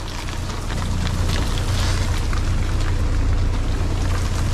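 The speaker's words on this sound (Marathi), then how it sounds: "बघा आईच्या गावात कसला जोरात पाऊस आलाय." Heavy rain pours down during a sudden windy storm in Mumbai, making a dense, loud, steady roar with a deep low rumble underneath.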